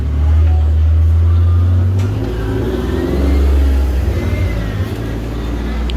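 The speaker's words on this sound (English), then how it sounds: "That's a grocery car." A grocery delivery car drives past on a street in Jerusalem, its engine swelling loud and close with a low rumble and revving, then easing off, without talk.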